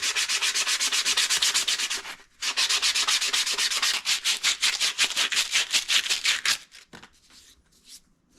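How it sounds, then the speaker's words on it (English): Brisk back-and-forth rubbing of 150-grit sandpaper for fine sanding on a knife made from a reciprocating saw blade, rapid and rhythmic, close up, with a brief pause and slower strokes tapering off at the end. "Do some fine sanding on it."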